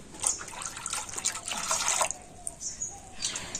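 Water is poured over grated raw potato to rinse it, a soft splashing trickle that runs unevenly for a few seconds, fairly quiet and close, with no talking.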